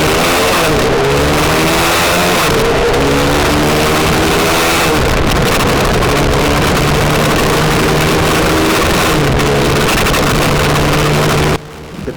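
A carbureted Lifan KPR165R motorcycle accelerates from 0 to 100 km/h, its engine revving up through several gears with rising pitch between brief drops at shifts, loud and close, ending in a sudden cutoff near the end.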